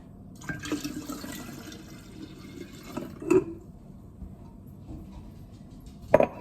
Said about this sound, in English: I'm actually going to go ahead and add in the cool water to make up the remaining 7 cups